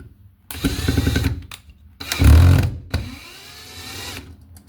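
A power driver runs screws into wiremold raceway mounted on a wall, in short loud whirring bursts separated by pauses, close up and with no talking.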